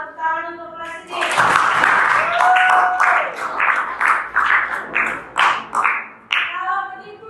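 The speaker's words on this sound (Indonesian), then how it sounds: "Tepuk tangan untuk presiden." Classroom applause during a lesson: a burst of clapping starts after a second and a half, swells, then breaks into uneven rhythmic claps that fade and return, with a voice speaking at the start.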